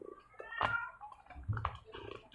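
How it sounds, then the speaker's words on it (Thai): An injured house cat cries to be let outside, giving two short, close meows that rise and fall against a quiet room. "แมวอยากออกนอกบ้านมันก็เลยชอบร้องนะคะ"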